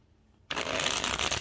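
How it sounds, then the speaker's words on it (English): A crisp riffle shuffle of a deck of oracle cards starts abruptly after near silence and runs as a dense, steady fluttering burst, close and fairly loud. "did you hear that crisp shuffle?"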